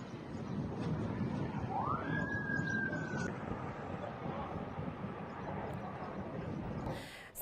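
A single siren in Lebanon after strikes wails once in the distance, rising then holding its tone briefly, over a busy, rumbling outdoor background.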